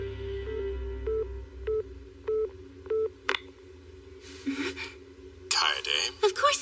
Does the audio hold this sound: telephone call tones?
yes